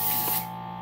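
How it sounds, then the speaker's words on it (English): Gas hissing from a valve into the ballast tank of an RC submarine, a brief close airy spray that fades after a moment over a faint mechanical hum. "it will blow gas into the tank"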